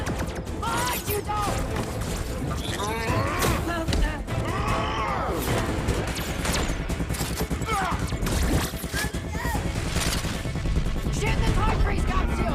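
Gunfire in a chaotic action scene from the Artemis Fowl movie, with loud dense bursts and mechanical clatter over a full soundtrack of music and shouting voices, continuous throughout.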